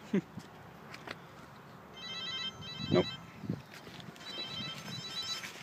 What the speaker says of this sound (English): I got too many phone calls coming in